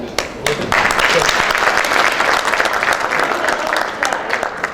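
A conference crowd claps steadily for several seconds during a Rotary District plenary session, a dense, bright patter of many hands, fairly close and loud.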